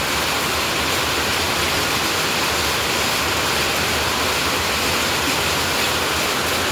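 Heavy rain pours down in winter, a dense, loud and unbroken roar of falling water that holds steady throughout with no voices.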